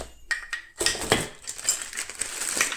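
Metal pressure cooker handles and screws are handled during a kitchen unboxing, giving sharp clinks and rattles, first as a few separate taps and then as continuous jangling, close and moderately loud, with no talking.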